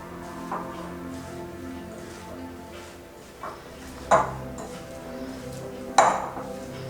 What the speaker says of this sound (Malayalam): നന്നായി ഒന്ന് മിക്സ് ചെയ്തെടുക്കുക